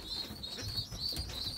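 Young racing pigeons in a breeding loft give soft, low cooing murmurs under a faint continuous high-pitched chirping, quiet and close.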